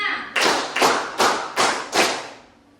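High school students in a classroom clap together on command, five loud unison claps in a steady rhythm about every half second, close by and each ringing briefly before fading out.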